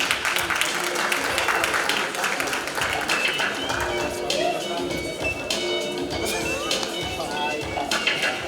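A crowd at the KZN Youth Business Awards 2022 ceremony gives a big round of applause: dense, sustained clapping that fills the whole stretch, with voices talking over and through it.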